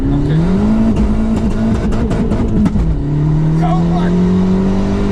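A 2009 Abarth 500 at Stage 1+ tune with its valved exhaust wide open revs loudly and close by, the engine note rising and falling in bursts while a voice briefly exclaims over it.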